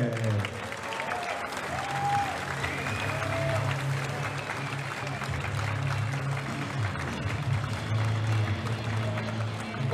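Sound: audience applause for an arm wrestler

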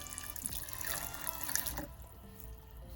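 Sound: pouring boiled broth water into bowl

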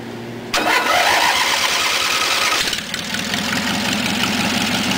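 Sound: 1980 Dayton GT engine starting and running

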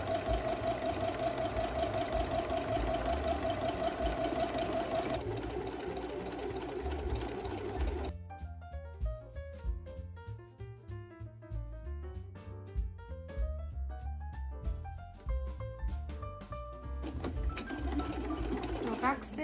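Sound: sewing machine stitching fabric onto a toy bear's head

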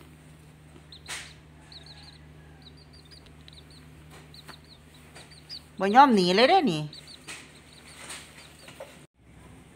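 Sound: bantam chick clucking on lap

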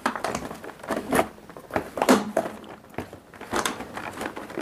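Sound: cutting a donut in half

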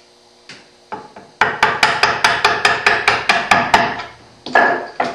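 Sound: mallet lightly tapping chisel while hand cutting wood dovetails

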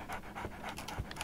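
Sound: dog panting in a Sherlock Holmes video game

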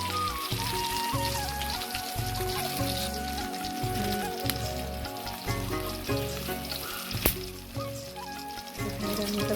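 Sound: dal with tomato cooking and sizzling in a pan

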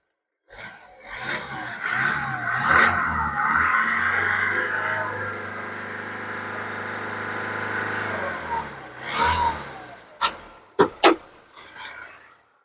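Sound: Honda Amaze diesel car engine revving

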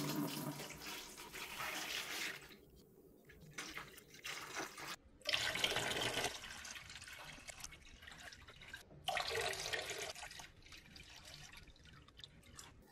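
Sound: water filling hydroponic seed starting tub

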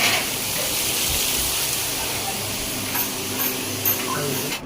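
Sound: halwa fish and prawns frying in a pan

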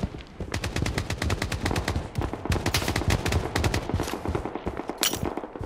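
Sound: gunfire in video game Project BloodStrike

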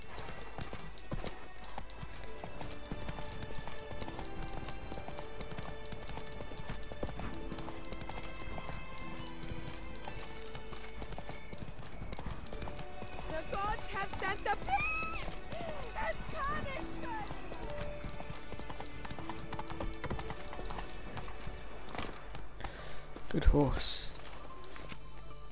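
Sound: horse galloping, from the video game The Witcher 3

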